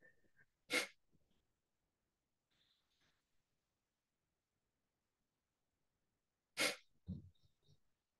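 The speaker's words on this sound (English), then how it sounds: "Ujjay inhales, Kapalbhati exhales." Yoga breathing in a quiet room: two sharp, forceful Kapalbhati exhales like sneezy bursts through the nose, separated by long silence and soft, faint Ujjayi inhales, close to the listener.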